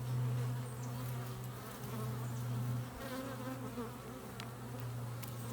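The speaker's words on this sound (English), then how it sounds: "The bees are really gentle, which also tells me there's nectar coming in." Honeybees hum in a dense, steady drone close by, a continuous buzz of many insects swarming around the hive with no voices.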